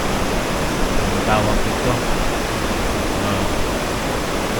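Water rushes hard through the Hapid irrigation system in Lamut, Ifugao, a loud unbroken roar of flow, with a voice speaking briefly over it.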